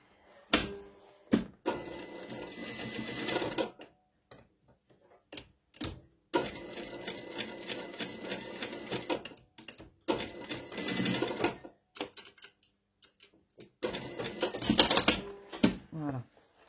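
A sewing machine stitches a garment lining in repeated bursts of rapid mechanical chatter, stopping and starting with short pauses between runs, close and fairly loud.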